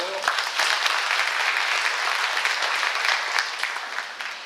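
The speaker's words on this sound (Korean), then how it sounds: "한 분 한 분 소개가 될 때마다 여러분 따뜻한 박수로 환영해 주시기 바랍니다." Warm applause from an audience greets an introduced guest at a formal ceremony, a dense burst of clapping that holds steady and then fades toward the end.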